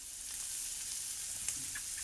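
Mushrooms and flour sauteing in a pan give a steady, close sizzle with faint stirring scrapes, and no one speaks.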